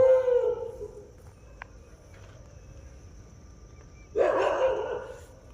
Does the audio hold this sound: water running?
no